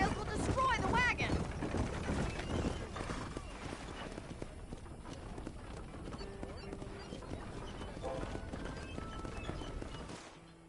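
In the video game Red Dead Redemption, a horse-drawn wagon rolls along a trail with loud, close clip-clopping hooves and rattling wheels. A horse whinnies near the start, and the hoofbeats continue steadily throughout.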